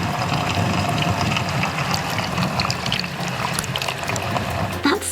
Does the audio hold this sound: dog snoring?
no